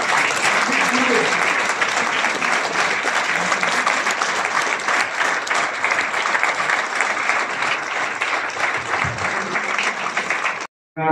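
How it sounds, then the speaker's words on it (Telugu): Loud, sustained applause from an audience at a medal and certificate ceremony for 10th and intermediate merit students, steady clapping for about ten seconds before cutting off abruptly. "రెండోసారి మీరు చప్పట్లు కొట్టాల్సింది"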